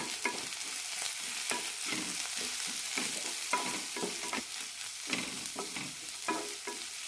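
Fried onions with turmeric powder stirred in a hot pan: continuous crackling sizzle with regular scraping strokes of a spoon, close and fairly quiet.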